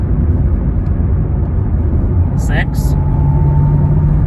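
A Chevrolet Camaro ZL1 1LE engine drones loud and low through gear changes, heard close and steady, with someone briefly speaking over it.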